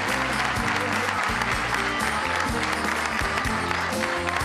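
Steady, dense audience applause for actor Kadir İnanır on a Turkish television show, a full, continuous clapping that holds evenly throughout.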